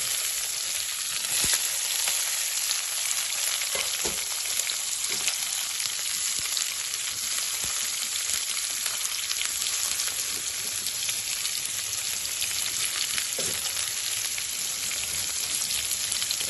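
Chopped onion and crushed garlic sizzle steadily in hot oil in a frying pan, a close, continuous crackling hiss with occasional louder pops and no talk.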